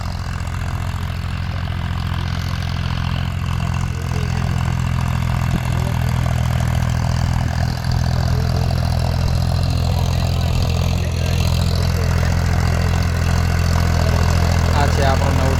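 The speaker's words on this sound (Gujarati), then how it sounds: "આ છે આપણું નવું ટ્રેક્ટર ચાલુ" A new tractor runs steadily while ploughing a field, its engine holding a constant, droning low hum throughout, moderately loud and unbroken.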